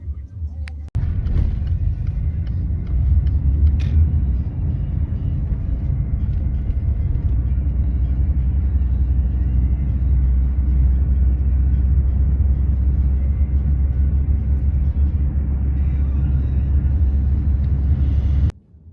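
Inside a car on a mountain road near Porto, a steady low engine and road rumble drones for most of the stretch, loud and unbroken, beginning after a short pause and stopping abruptly near the end.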